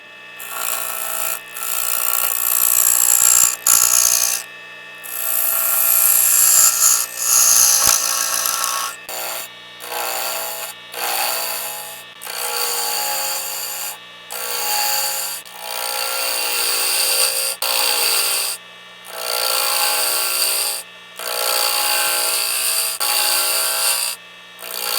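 Woodturning tools cutting a wood spindle held between centres on a lathe, giving bursts of scraping, rasping cuts with short pauses between passes, close and fairly loud, with no talking.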